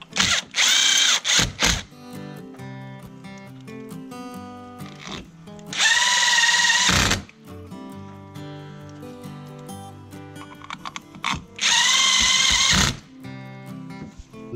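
A power drill drives long screws into a low-profile swivel base mount, whirring in three loud, steady bursts of about a second each, separated by quieter clicks and handling noise.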